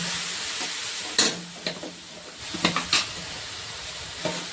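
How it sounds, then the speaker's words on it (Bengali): Cumin and coriander powder stirred in a pan with a little water, a soft continuous sizzle and hiss broken by a few sharp scrapes and clinks of the spoon against the metal. "জিরের গুঁড়ো, ধনিয়ার গুঁড়ো, এগুলো ভালো করে নেড়ে নেবো"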